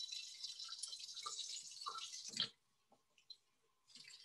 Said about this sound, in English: we're gonna put, I think it's a cup and a half of warm water in there.